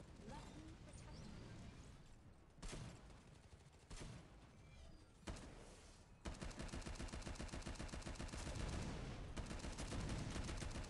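Rapid gunfire and blasts from the shooter game Shadowgun War Games, with bursts around three, four and five seconds, then a dense, loud, continuous automatic fusillade for the last few seconds. A voice is faintly present beneath.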